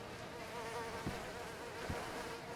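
Bees at a beehive in DayZ give a continuous close buzzing drone, with a couple of faint soft knocks beneath it.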